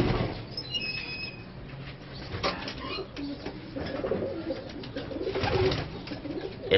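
Pigeons in a loft coo repeatedly, with soft throaty calls rising and falling over a low background hum, joined by a few squeaks and faint rustling nearby.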